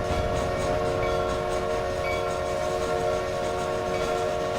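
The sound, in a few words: train whistle signal in a video game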